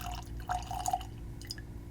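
Laphroaig whiskey poured into a glass, a short liquid trickle with a few drips and splashes, close and fairly quiet over low background hum.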